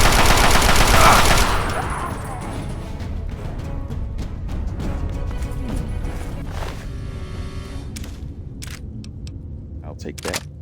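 Laser rifle fire in Fallout 3 sounds as a dense, loud burst of rapid zapping shots at first, then fades into scattered sharper shots and game noise, with a voice speaking at times.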